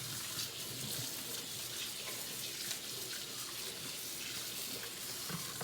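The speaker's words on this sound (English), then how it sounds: "we're gonna put some water in here so that the rest of that batter can kind of loosen up" A kitchen tap runs water into a bowl holding leftover chocolate batter, producing a steady even splashing stream from nearby with no other sounds.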